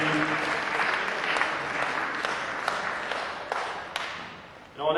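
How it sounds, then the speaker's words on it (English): An audience at an award ceremony claps in sustained, dense applause that holds steady, then thins and dies away near the end. "Ladies and gentlemen, a round of applause for Miriam Conde."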